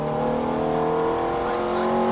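A Ferrari F430 accelerating on a race track, its engine a loud, sustained tonal roar held steady at high revs, close and dominant, with no pauses or gear changes evident.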